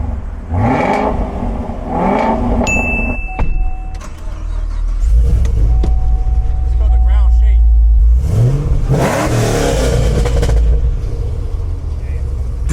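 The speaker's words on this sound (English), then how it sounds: "Let's see what headers, X-pipe, and factory MPP exhaust sounds like." A Chevrolet Camaro ZL1 fitted with headers, an X-pipe and factory MPP exhaust revs loudly at a street car meet, deep bursts rising and falling between shouted voices and crowd noise nearby.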